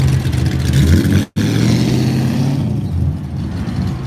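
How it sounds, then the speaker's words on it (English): A classic Aston Martin at the Goodwood Revival rumbles past close by, its engine a loud, steady low growl with a brief cut before it picks up again, no talking over it. "You got to hear the rumble of the car there."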